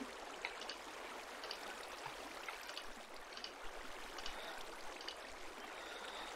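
Steady flowing water in Minecraft, a soft continuous stream-like trickle with faint gurgles, alone and fairly quiet throughout.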